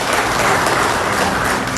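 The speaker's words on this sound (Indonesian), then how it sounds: "Yang ngerti tepuk tangan, brother." Church congregation applauding during a sermon, a brief burst of dense, loud clapping filling the room with no voices over it.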